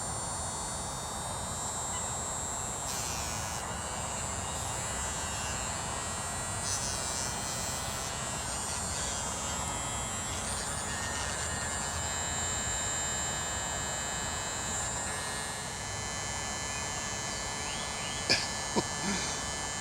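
An electric hook sharpener buzzes steadily while a fishing hook is sharpened, a continuous close motor whine with no talk, ending in a couple of faint clicks.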